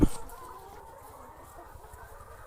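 Chickens on a thousand-bird poultry farm make soft, continuous clucking and murmuring in the background, steady and moderately faint, after a brief sharp sound at the very start.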